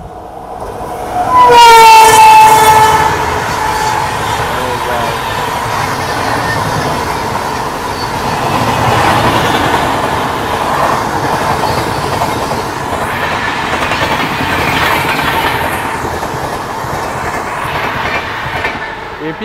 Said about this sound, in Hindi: लेकिन उससे पहले एक और ट्रेन स्टेशन को स्किप कर रही है